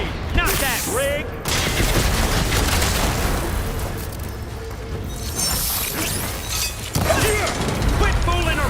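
Gunfire and explosive impacts during combat in the video game Horizon Forbidden West, with dense crashing bursts and booms mixed with game music and character voices.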